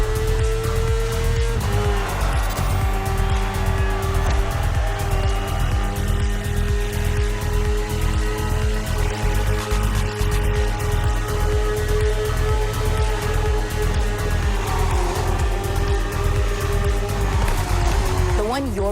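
A BMW S1000RR superbike is ridden in The Crew Motorfest video game, a loud, steady, sustained engine drone with a rising tone near the end.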